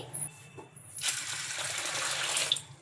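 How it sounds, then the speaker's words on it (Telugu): A couple of light clinks, then drinking water pours steadily into a bowl until the contents are submerged, close and fairly loud. "ఇప్పుడు ఇందులో మునిగే వరకు మంచినీళ్ళు అయితే వేసుకోవాలి"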